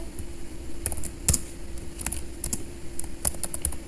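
Quiet, irregular clicks of keys tapped on a computer keyboard while code is typed, soft and close, with short pauses between bursts of keystrokes.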